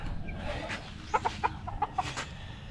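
Chickens kept at a Filipino home give a short run of soft, quick clucks over a low steady background hum, fairly faint and close by, with no voices.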